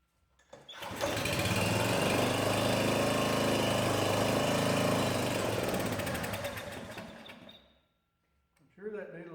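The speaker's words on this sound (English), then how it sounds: "just put a little start fluid in there, see if she'll pick up and go." A small engine on a log splitter, primed with starting fluid, cranks and catches, running loud and steady for about seven seconds before dying out; a voice speaks briefly afterward.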